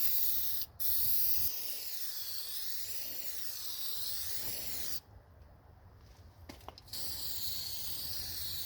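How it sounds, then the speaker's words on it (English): Meguiar's headlight restorer sprayed from an aerosol can onto a car headlight gives a steady, close hiss for about five seconds. A short pause follows, then the spraying hiss starts again. "I'm going to spray the Maguiars. Spray here."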